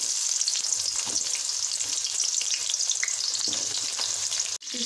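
Onions dropped into hot oil with cinnamon, clove and fennel, giving a dense, steady crackling sizzle with faint stirring taps, close and even, ending in a brief break near the finish.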